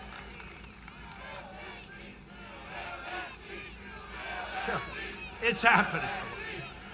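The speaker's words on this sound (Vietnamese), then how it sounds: "Mọi người đang reo hò cái chữ là hãy đề cử cái ghế đó." A large crowd at a campaign rally at an airport in Greenville, North Carolina cheers and shouts, a dense roar of voices that builds toward the end with sharp louder bursts, with someone speaking over it.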